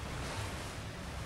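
A character swims through water in the video game Resident Evil 4, giving a steady, close, broadband wash of sloshing water with low rumbling underneath and no speech.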